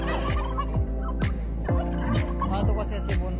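Male turkeys on a poultry farm gobble repeatedly, several rattling gobbles overlapping in a busy flock chorus, close and loud.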